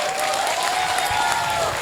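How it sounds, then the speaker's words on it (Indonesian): Audience applause at a stand-up comedy show in Rembang, Indonesia, a steady burst of clapping filling the room for the whole short stretch, with a faint tonal whine running underneath. "Tepuk tangan untuk dia."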